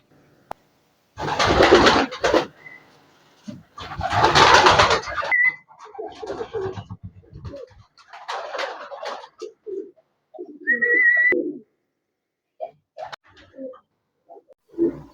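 Pigeons coo in short soft bursts with pauses between, alongside louder rustling flurries and a few brief higher calls, fairly close.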